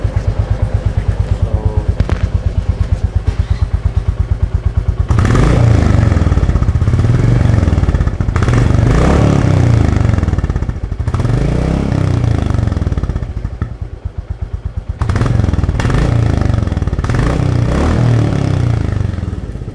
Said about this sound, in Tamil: அதுக்கு முன்னாடி ஸ்டாக் சைலன்சரோட சவுண்ட் என்னோடய வண்டியில் வந்து எப்படி வருதுன்னு உங்களுக்கு காமிக்கிறேன்.